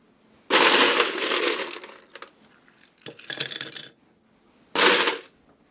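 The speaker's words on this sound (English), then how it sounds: "let's get some ice in our glass" Ice cubes are dropped into a glass while a 1904 temperance drink is prepared, giving three separate clattering, clinking bursts close by.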